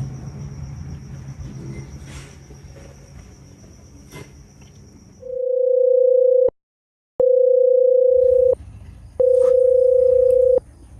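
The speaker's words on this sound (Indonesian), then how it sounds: "Ah, telepon Elis lagi lah." Background noise gives way to a telephone ringback tone: a steady electronic beep repeating in long pulses with short gaps, loud and close.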